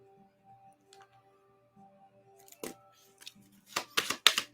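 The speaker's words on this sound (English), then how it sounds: "I'm going to do a quick shuffle and I will be back." Tarot cards are shuffled close by, starting with quiet scattered ticks over a low hum and building into a loud burst of riffling, papery flutters near the end.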